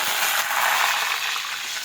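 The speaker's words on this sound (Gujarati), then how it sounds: "તેલ છે તે ગરમ થઈ ગયું છે હવે આપણે તમારા રાઈ અને જીરું નાખી દઈશું ખાંડેલું લસણ નાખીશું" Mustard seeds, cumin, crushed garlic and chopped green chilies frying in hot oil for urad dal, a steady, close hiss of sizzling with faint crackles throughout.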